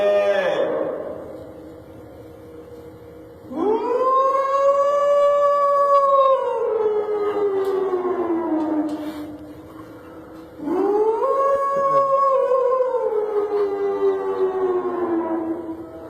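A man mimics a mosque's Ramadan sehri siren with his own voice, sounding two long, loud, wailing tones that rise and then slowly fall, separated by a brief pause. Faint background noise sits beneath the calls.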